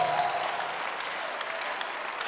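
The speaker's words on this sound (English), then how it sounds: "Give the Lord a better clap of faith" Church congregation clapping in a worship service, a dense, even patter of many hands that continues steadily throughout, fairly loud and close.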